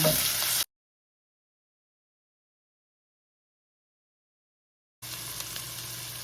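Ground pork and garlic sauté in a pan with a bright, steady sizzle. A stretch of dead silence cuts through the middle, then the frying hiss returns at the same level.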